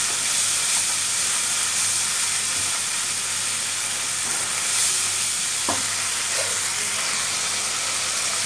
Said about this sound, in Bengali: আমরা চামড়াটা ভালো করে কষিয়ে নিব, মশলাটা ভালো করে কষিয়ে নিব।